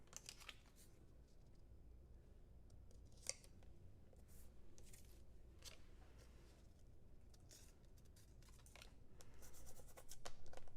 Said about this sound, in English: we can take a scissors and just trim the sides off